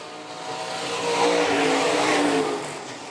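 IMCA stock cars race around a dirt raceway with a loud, continuous engine roar that swells and fades as the pack passes close by, with no talk.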